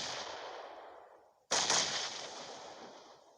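Explosive grenade blasts and gunfire in the PUBG Mobile battle-royale video game at an esports tournament: a fading roar cut by a sudden sharp blast and a second crack, then a long rumbling decay, loud with no talk.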